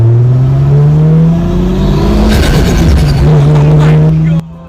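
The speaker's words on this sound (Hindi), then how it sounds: "अगर किसी गाड़ी से सबसे तगड़ी आवाज आती है तो वो है सिर्फ सुपरा।" A Toyota Supra's engine and exhaust rev hard, the pitch climbing steadily over several seconds, dipping briefly, then holding high before cutting off sharply near the end; loud and close, with no talk.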